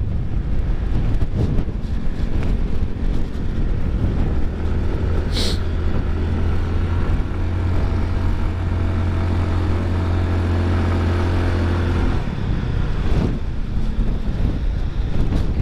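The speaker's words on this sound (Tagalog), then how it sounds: "Lakas nung hangin" Strong wind buffets the microphone in a loud, continuous roar during a year-end motorcycle ride at Malico, San Nicolas, with a steady engine drone running beneath it.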